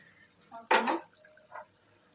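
A spoon mixing chili powder, coriander powder and garam masala for mutton kheema curry, giving a few short metallic clinks and scrapes against a dish, one louder knock in the middle, in an otherwise quiet room.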